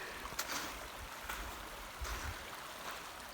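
Mill Creek flows steadily in the open air as a broad, continuous rush of water along a mountain trail, moderately loud and unbroken for the whole stretch, with no voices over it.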